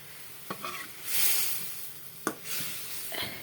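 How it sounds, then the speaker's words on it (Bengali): Spices being sautéed in a pan for a Bengali koi fish curry with lentil dumplings: soft, steady sizzling and frying broken by a few scraping stirs of a spoon against the pan, close and fairly quiet. "আমার এই যে মশলা কষানো হয়ে গেছে"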